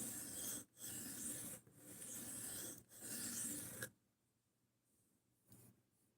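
A large Gerber knife blade drawn along a whetstone, four long gritty rasping strokes with short pauses between, then near silence with a faint scrape near the end.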